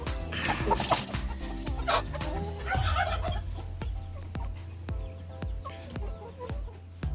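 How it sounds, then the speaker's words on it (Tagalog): Rhode Island chickens in a free-range breeding pen cluck and call up close, with busy overlapping clucks early, then steady sharp pecking or tapping sounds repeating beneath the flock. "So dito naman po tayo sa kabilang breeding pen. So galing pa rin po ito kay Sir Francis. So pair din po ito. Ayan. So ang ating Rhode Island"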